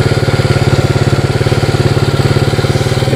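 Yamaha Moto4 ATV engine idling close by, a steady loud rhythmic putter with no speech.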